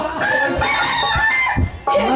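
During a Kabir Leela folk stage show, a rooster crows and clucks loudly up close, a harmonic call broken by short clucking bursts and brief pauses.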